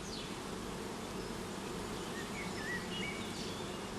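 A mass of honey bees from a strong colony buzzing together in a dense, steady drone, moderately close, with faint higher whines drifting over the hum.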